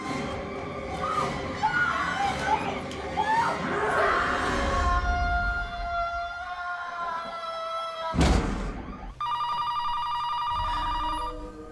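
An old-style telephone bell rings loudly and repeatedly during a tense scene in the 1997 horror film Scream 2, with a musical score and crowd noise before and after it.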